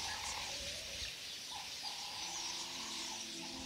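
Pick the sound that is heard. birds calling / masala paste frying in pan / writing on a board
birds calling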